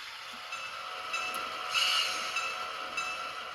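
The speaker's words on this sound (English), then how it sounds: "Power for today is the mill's workhorse EMD MP15DC locomotive." An EMD MP15DC switcher locomotive moves rail cars around a steel mill's pipe and scrap tracks, a steady hissing mechanical drone with a brief swell of squealing, heard at moderate distance with no talking.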